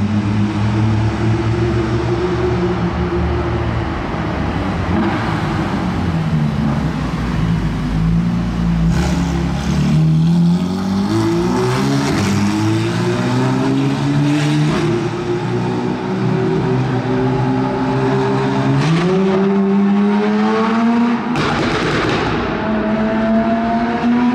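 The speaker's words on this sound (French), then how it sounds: "Ces retours d'échappement de fou" A modified sports car revs hard, its engine tone climbing and dropping through several long pulls with sharp exhaust pops and crackles between, loud and close with no talking.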